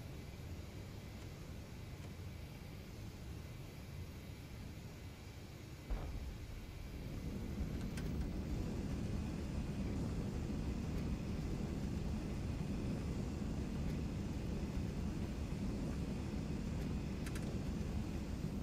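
A jet aircraft coming in to land in the DCS flight simulator, heard from the cockpit of an AJS 37 Viggen: a steady engine whine and airflow that shifts into a louder, deeper rumbling roar partway through and holds there.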